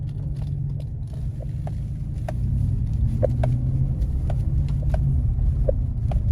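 A GMC Sierra Denali 1500 4WD with a 6.2 V8 and Borla exhaust creeps in low range across ice, giving a steady low engine rumble with faint clicks and crunches from the tires, and no talking.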